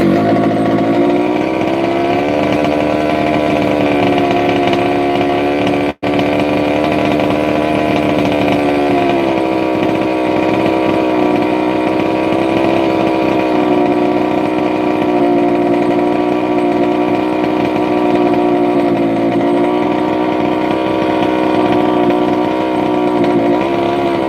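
A rebuilt 32cc small two-stroke engine running steadily at a buzzy idle, loud and close throughout, with a slight waver in pitch and one brief click near the start.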